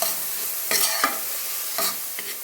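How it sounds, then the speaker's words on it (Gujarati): Chopped garlic sizzles in hot oil while a spoon stirs the pan, a steady close frying hiss with a few sharp scrapes, no talking. "લસણ નાખીશું, સમારેલું નાખીશું,"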